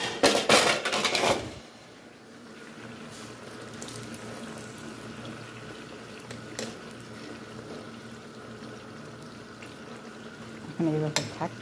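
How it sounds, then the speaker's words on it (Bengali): Spices sauté in a pan for a home fish-and-rice meal. A burst of clattering pan handling opens, then a low, steady sizzle carries on quietly, with another brief clatter near the end. "দেখেন আমি যে মশলাগুলো দেখালাম আপনাদের কষাচ্ছে"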